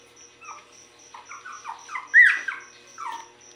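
A puppy gives a string of soft, high whimpers and whines with a sharper yelp near the middle, fairly close and alone against a quiet background.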